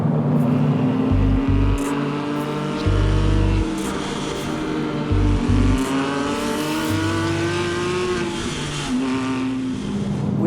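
A Porsche 997.1 GT3 RS with a naturally aspirated engine revving hard, loud rising and falling engine notes with repeated bursts of acceleration and gear changes, close and prominent throughout.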